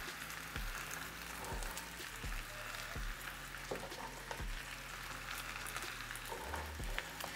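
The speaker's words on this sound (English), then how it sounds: "I need to stir them so that I can incorporate the onions in with the potatoes a little bit" Potatoes and onions frying in a single pan for vegan scalloped potatoes give a steady low sizzle, with a utensil scraping the pan in regular strokes about once a second, close and moderately quiet.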